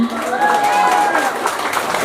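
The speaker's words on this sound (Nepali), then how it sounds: "एकचोटि उहाँलाई जोरदार ताली।" Audience clapping and cheering in a hall at an honouring ceremony for a singer, a dense steady wash of applause with a musical tone sustained beneath it for about two seconds.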